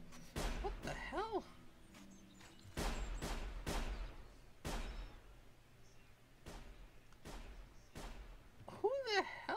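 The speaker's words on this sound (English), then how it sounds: "Who the hell is shooting who?" Gunfire in the stealth game Sir, You Are Being Hunted: sharp, booming shots spaced irregularly, some in quick pairs, with a voice speaking between them and faint mechanical whirring sounds.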